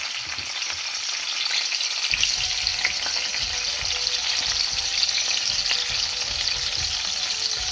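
Onions fry in hot palm oil in a pan, producing a loud, continuous close sizzle that thickens after a couple of seconds and holds steady throughout.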